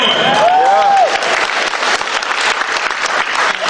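A comedy show audience applauds and cheers, loud dense clapping with a whoop rising early, sustained throughout.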